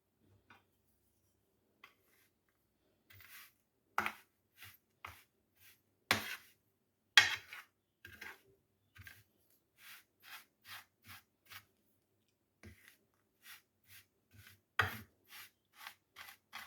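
Tandoori masala spice powders, including amchur, ginger powder, salt and turmeric, are mixed by hand with scattered dry scraping and tapping strokes, quiet and irregular with silent gaps between.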